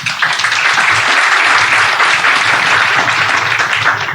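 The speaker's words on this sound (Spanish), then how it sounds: "un aplauso por este reencuentro." Dense, loud applause from an audience at a medical talk on vaccine impact in hemato-oncology patients, sustained clapping with no pauses.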